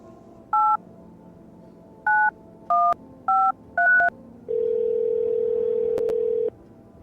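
Telephone keypad dialing sounds out a number, five short separate two-tone beeps in an uneven rhythm, then one long steady tone as the call goes through, clear and close with no talking.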